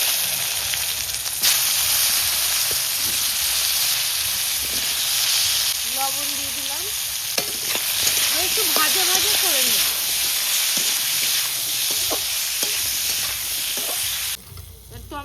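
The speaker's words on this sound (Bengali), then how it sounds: "ফোড়ন দিয়ে দিলাম এবার কচুগুলো দিয়ে দিচ্ছি" Taro pieces are dropped into hot spiced oil tempering in a pan, setting off a loud continuous sizzle and hiss, with stirring clatter and someone briefly talking over it.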